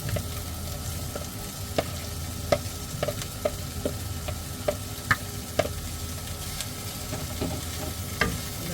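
Chopped pork offal sautés for bopis in a pan, a low steady sizzle with occasional light clicks of the spatula against the metal.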